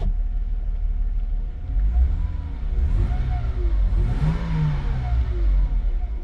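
A 1997 Mercedes C240 with the M112 engine is revved through an open window, rising and falling in a few smooth swells over a low steady idle rumble, close by with no talk.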